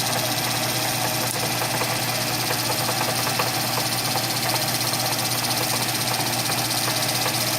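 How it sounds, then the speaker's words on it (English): A lathe cuts a 14K solid gold watch dial, producing a constant loud mechanical whir and hum with a faint rhythmic ticking from the spinning machine, steady for the whole stretch. "So I know the lathe is pretty noisy, but you can see that I'm just easing in there."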